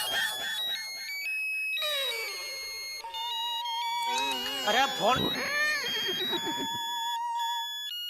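An electronic ringtone plays a bright, stepping melody that repeats, and a voice briefly cuts in over it midway before the tune carries on.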